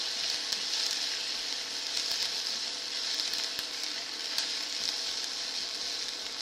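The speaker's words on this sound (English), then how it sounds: "Stir your onion." Onions frying in a pan for dahl, a steady bright sizzle that holds loud and even throughout, with faint occasional scrapes of stirring and no voices.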